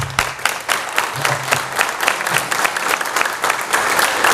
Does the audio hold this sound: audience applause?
yes